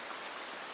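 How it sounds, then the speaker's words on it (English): Steady rain falls in an even, close wash of soft hiss with no distinct drops or other sounds standing out, alone and unbroken throughout. "the sound of the rain itself"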